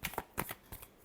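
Tarot cards are shuffled in a quick burst of crisp riffling flicks, close and quiet, with no talk.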